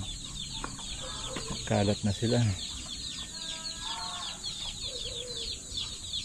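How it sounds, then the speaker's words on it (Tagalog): Chickens cluck and squawk nearby in a busy outdoor setting, with birdsong and insect buzz throughout and a person speaking briefly. "Ito yung mga manok natin."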